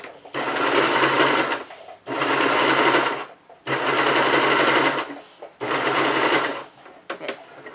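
A sewing machine stitches a fabric dice bag in four long, steady runs separated by short pauses, loud and close, with a few brief stops and starts near the end.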